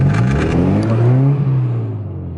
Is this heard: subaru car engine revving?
yes